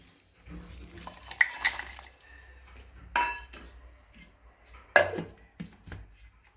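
A spoon stirs and mashes red chilli tamarind chutney made with ripe red chillies in a bowl, producing soft scraping and a few sharp clinks against the vessel, with quiet gaps between bursts.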